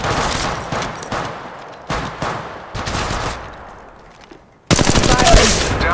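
Rapid automatic gunfire in Apex Legends Mobile, several loud close bursts of fast repeating shots with brief gaps, fading tails between volleys, then a dense final burst.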